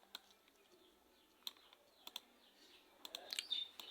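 Keys tapped on a computer keyboard while typing text into a flyer design, soft, quiet clicks in irregular bursts that grow busier near the end.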